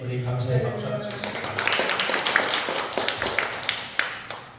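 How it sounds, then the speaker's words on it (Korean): A church congregation claps in thanks after a prayer, a lively burst of many hands clapping close by that follows the tail of a voice and continues with crisp, uneven slaps. "우리 감사의 박수 한번 치겠습니다."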